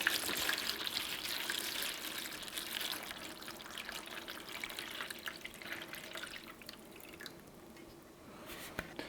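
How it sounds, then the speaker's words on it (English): Water poured into a plastic seed tray holding tomato seedling pots for bottom watering, a steady soft splashing trickle close to the microphone that gradually thins out, with no voices. "I'm going to just fill this tray up with about 1 inch of water"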